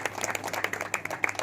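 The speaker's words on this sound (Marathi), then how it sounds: "खरोखर त्यांच्यासाठी एकदा जोरदार टाळ्या वाजवतो" Scattered clapping from a small gathering of residents congratulating a newly elected woman municipal councillor in a Marathi colony event, fairly faint and brief, with no talk over it.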